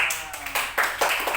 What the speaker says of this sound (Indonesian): kasih tepuk tangan buat Ima